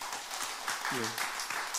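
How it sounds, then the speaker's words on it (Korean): A church congregation claps to welcome newcomers at a Sunday worship service, a steady spread of applause with a brief voice or tone rising through the middle. "우리 박수로 환영하겠습니다."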